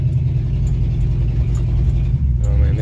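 A loud Oldsmobile car engine runs steadily while driving on a slushy winter road, a continuous close, heavy low rumble with slight rises in revs throughout.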